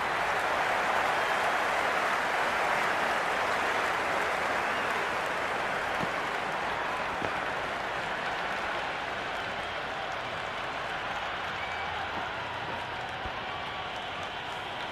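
A stadium crowd applauds and cheers in a Big Bash League cricket video game, Sydney Sixers against Adelaide Strikers, a steady loud wash of clapping and crowd noise that holds level throughout.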